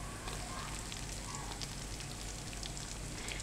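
Browned garlic and a large onion sauté in a hot pan, giving a steady, dense sizzle and crackle that runs without pause at close range.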